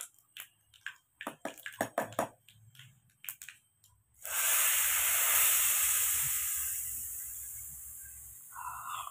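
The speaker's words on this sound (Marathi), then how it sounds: "मस्त गरमागरम तडका आता आपण हा चटणीवर देऊन घेऊया" Hot tempering of hing, cumin, mustard seeds and curry leaves is poured onto chutney, bursting into a loud, sharp sizzle that slowly fades, after a few quick clinks and taps.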